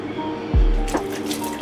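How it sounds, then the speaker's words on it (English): Rinsed canned chickpeas tumble into a pot of vegetable broth with two short wet plops and splashes, close and fairly quiet. "you go ahead and add in your rinsed chickpeas."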